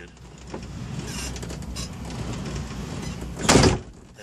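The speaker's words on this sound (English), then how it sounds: "See, the door still sounds pretty good." Truck cab door opening and closing on a short-haul rig, a low rumbling handle and hinge movement building to a loud solid thunk near the end, close by with no talk over it.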